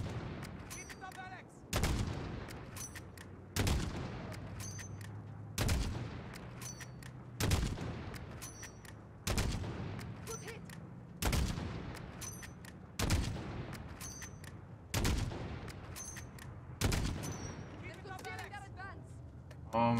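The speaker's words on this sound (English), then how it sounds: "Shoot the tires, I guess?" Heavy single gunshots fired at vehicle tires on the Highway of Death mission in Call of Duty: Modern Warfare ring out roughly every two seconds, loud and booming, each trailing off over a low rumbling engine drone.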